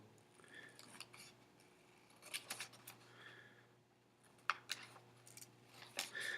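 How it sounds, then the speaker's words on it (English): Scissors snip paper to trim a small corner piece while a cube is being cut and folded. The cuts come as quiet, sparse crisp clips over a faint low hum, with no voices. "I can cut that extra piece of paper off"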